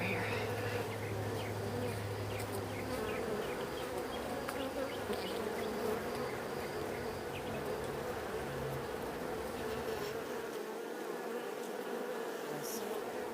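Honeybees buzzing around a beehive make a dense, continuous drone that holds steady and close throughout, with no voices over it.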